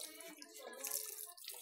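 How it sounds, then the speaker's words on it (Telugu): Water is poured from a container over a Doberman being bathed, a short splashing gush that pours, dips and surges again, fairly faint. "ఫస్ట్ వచ్చి నీళ్ళు పోసారనమాట"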